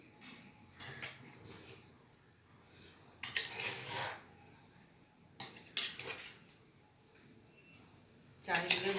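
Utensils clink and scrape against a dish while biryani and salad are mixed, in several short bursts of metallic rattling, with quiet talk in between.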